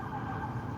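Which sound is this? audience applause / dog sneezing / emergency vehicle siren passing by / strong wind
emergency vehicle siren passing by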